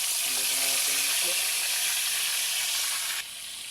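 Cooking oil heating in a wok over a wood fire sizzles with a loud, steady, close hiss that runs throughout, with a voice speaking briefly at the start.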